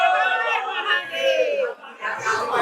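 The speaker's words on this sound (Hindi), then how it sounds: "भक्तों की काफी भीड़ लगी हुई है" A dense crowd of devotees fills the Bel Baba temple on Mahashivratri, many voices chattering and calling out together in a loud, continuous, close hubbub.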